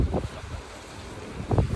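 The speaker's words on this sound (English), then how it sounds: "it's windy out here today" Wind at Rif Fort on St. Anna Bay, Curaçao, a seaside stone fort: low, faint buffeting gusts against the microphone, with two short stronger puffs at the start and end.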